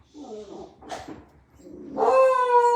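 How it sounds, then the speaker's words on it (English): A beagle gives a short burst of barking and whimpering at close range, with a high, drawn-out howling whine at the end. "That's my dog. Can you tell he's a beagle?"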